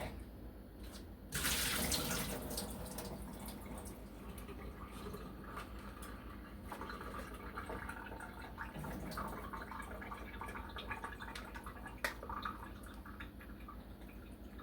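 Steady running water from a faucet fills the sink, with a louder gush near the start and occasional clinks and drips over a constant stream.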